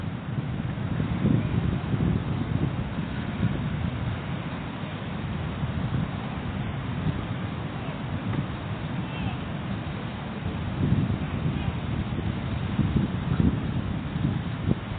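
Strong wind gusts across Praia do Itararé beach in São Vicente, Brazil, a constant rushing, buffeting rumble that swells now and then over the full stretch.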